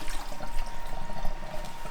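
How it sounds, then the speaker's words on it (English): Water pouring out of the removable tank of a Siemens coffee machine, a steady broadband splashing and trickling that runs unbroken for two seconds, fairly close and moderately loud with no voices. "I'm going to empty the water."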